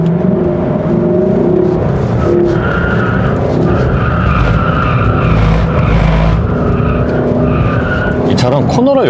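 A Lexus LC 500 Convertible on UHP tires corners hard, its tires squealing and skidding loudly over a steady engine note, with a rising engine sweep at the end as someone talks over it.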